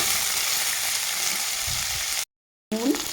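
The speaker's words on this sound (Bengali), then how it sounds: "আলুটাকে আমি একটু হালকা ভেজে নেব পেঁয়াজের সাথে।" Sliced potatoes and chopped onion fry lightly together in oil in a pan, giving a steady close sizzle that runs evenly, then cuts off briefly before a short burst of stirring and sizzling resumes.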